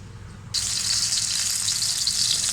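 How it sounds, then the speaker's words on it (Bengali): Spiced chicken drops into hot soybean oil in a pan, bursting into a loud, steady sizzle after a brief quiet start, with no talking. "তেলের মধ্যে চিকেনটা দিয়ে দিয়েছি"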